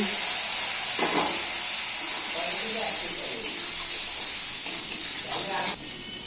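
Water hits hot ground turmeric, cumin, coriander and chilli powder with salt in a kadai, raising a steady, loud hiss of sizzling that holds evenly throughout and dips slightly near the end.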